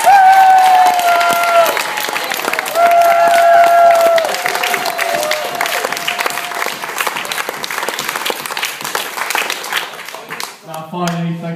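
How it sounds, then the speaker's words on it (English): A crowd at a fundraising thank-you party for Kenya claps in a loud, sustained round of applause, with some cheering and voices mixed in, fading slightly toward the end. "So a huge round of applause to Mum and Dad."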